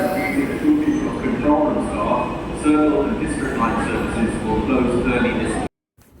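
Inside a train in the UK, a steady rumble of the carriage rolling along the rails carries on under people talking, then cuts off abruptly near the end.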